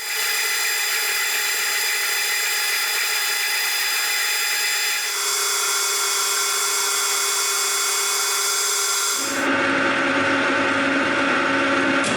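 Metal gear teeth on an idler gear are cut in a small workshop with a grooving tool, giving a loud, continuous machining whine. Its pitch and tone shift abruptly partway through, then turn to a harsher low grind.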